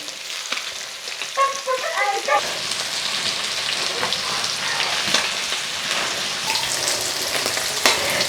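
Sardines frying in an iron pan, with a steady close sizzle and crackle throughout and a few brief clinks near the start.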